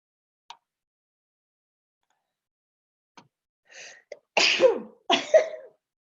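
A few faint clicks and a quick inhale lead into two forceful sneezes in close succession, close by and otherwise quiet.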